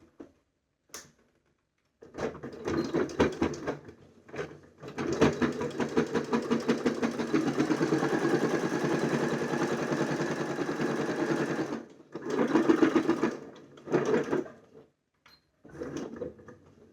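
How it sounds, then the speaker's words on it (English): A sewing machine stitches along the edge of a jacket in bursts, a long steady run of rapid mechanical whirring broken by pauses, with shorter runs starting and stopping near the end. "Now I'm going to stitch as close to the edge as I possibly can."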